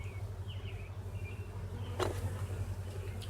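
Honey bees buzz around their hives in a bee yard of 27 colonies, a steady low drone with occasional individual bees whining past close by, and one sharp brief knock partway through.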